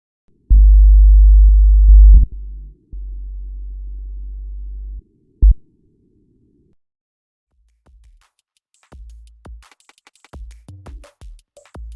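Recorded electrical short-circuit signal: a loud low steady hum with harmonics lasting under two seconds, then a quieter low drone, a brief pop, and later scattered faint crackles and buzzes.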